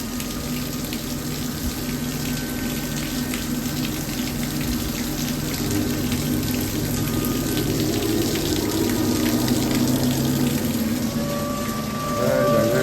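Steady rushing water pours continuously from leaking taps, a broad hiss with a low rumble underneath, fairly loud and constant with no voices.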